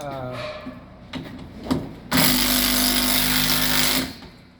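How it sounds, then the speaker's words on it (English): A few scattered knocks and a brief voice, then a loud power drill with a masonry bit bores into a wall for about two seconds before stopping, during deck rail installation. "the mason bits allows us to drill straight in"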